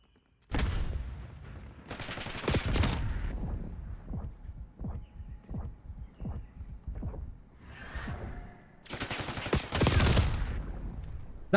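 Pistol shots in a video game, fired in several loud bursts with quicker, fainter pops in between and a long pause before the final bursts, with no talk.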